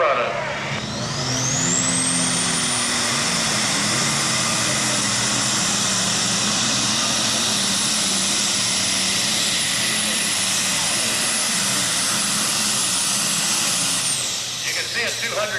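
A super stock diesel pulling tractor roars under full power at an evening competition pull, loud and sustained with a high turbo whistle over a deep engine rumble. It fades at the end, with an announcer's voice underneath.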